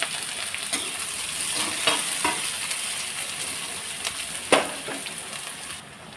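Green chillies and onion fry in hot oil with crackled mustard seeds for an aloo paratha filling, giving a steady close sizzle broken by a few stirring scrapes and one sharp clack.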